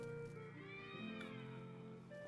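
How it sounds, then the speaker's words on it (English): Cats yowl and caterwaul in a fight within the video game Oblivion, their drawn-out, wavering cries rising and falling steadily for the full moment at moderate loudness with no pauses. "Amidst the sound of fighting cats in the background, or whatever that is"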